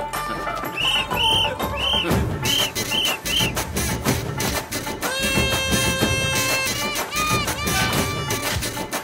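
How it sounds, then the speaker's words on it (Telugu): Sharp whistle blasts are blown repeatedly to rouse sleeping men in a comedy film scene, short high bursts over loud, busy background music. "వెళ్ళి విజిల్ పట్టరా."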